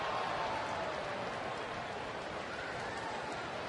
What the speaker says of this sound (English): the raindrops continue to pick up in volume here.